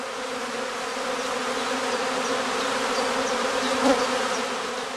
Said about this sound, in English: They collect to form a swarm cluster of increasing size.